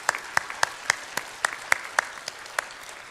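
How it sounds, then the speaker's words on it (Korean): Sparse, scattered hand claps from a small church congregation welcoming newcomers during a Sunday worship service, about ten distinct claps spread over a few seconds with quiet gaps between them. "박수로 환영합니다."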